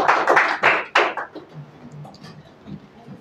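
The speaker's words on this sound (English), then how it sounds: "Give a huge round of applause for her." Audience applause at an award ceremony, a short burst of claps that fades quickly within about a second and a half, leaving quiet room sound.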